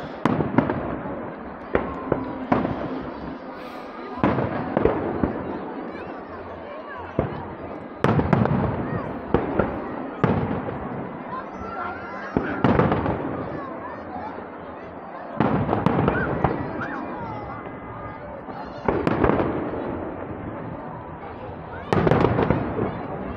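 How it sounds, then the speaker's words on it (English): Fireworks burst repeatedly at the Blackpool fireworks championships, a series of sharp booms and crackling pops spaced a few seconds apart, some distant and some louder, with crowd chatter and voices in between. "The golden ones is probably my favourite when it comes down to the fireworks"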